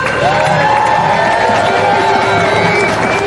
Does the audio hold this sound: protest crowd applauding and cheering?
yes